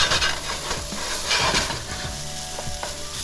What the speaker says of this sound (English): I like to put the garlic in. And I just want to heat the garlic up just a little bit.